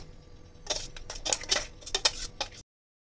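Pulsed dried copra coconut is tipped out of a mixer jar onto a plate, giving a quick run of close clinks and scrapes, roughly a dozen sharp taps over two seconds that stop abruptly, with no talking.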